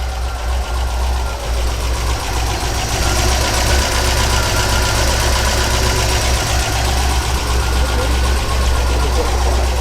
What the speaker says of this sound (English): I can't believe how much better that engine is running now with that fresh set of carbs